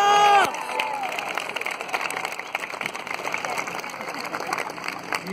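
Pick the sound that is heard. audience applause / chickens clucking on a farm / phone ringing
audience applause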